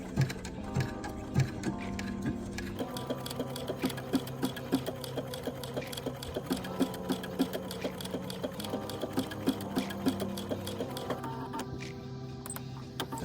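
A sewing machine stitches applique onto a quilt block, its needle running in a fast, steady mechanical rhythm close by, with brief changes in pace as the fabric is guided.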